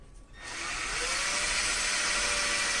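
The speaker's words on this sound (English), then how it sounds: "drilling the holes for those Christmas tree fasteners" A power drill bores holes through new side panels on a 1989 Sea Ray 390 Express Cruiser for Christmas tree fasteners, a steady high whine rising after a quiet start and holding loud and close.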